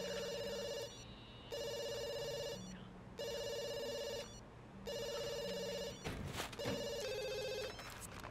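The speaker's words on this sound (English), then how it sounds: "let's have you get up to answer the phone." A telephone rings in The Sims game, repeating electronic bursts of a bright multi-tone bell with short gaps between them, loud and close, broken near the end by a brief clattering crash.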